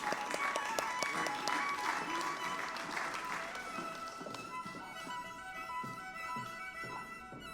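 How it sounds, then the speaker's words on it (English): A graduation ceremony audience applauds in a dense burst of clapping that fades over several seconds into scattered claps and light rustling. "let's give a big round of applause to our graduating students at the postgraduate level"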